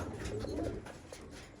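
A purple Istanbul pigeon coos softly close by, a low throaty burble repeating a couple of times with no talking.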